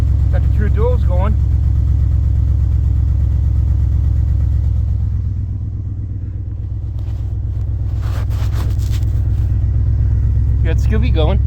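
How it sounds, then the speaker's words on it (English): A 2000 GMC 2500 truck with true dual exhaust idles after a cold start at 18 degrees, a deep, steady, close rumble that dips slightly midway, with someone talking at the start and end. "Got the true duals going."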